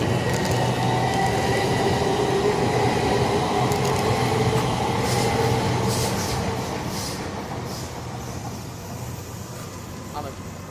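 A Class 395 high-speed train on HS1 at Ebbsfleet International station rumbles steadily with rail and wheel noise, then fades slightly as it pulls away, while a voice talks over it.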